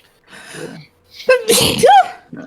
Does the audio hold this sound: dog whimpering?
no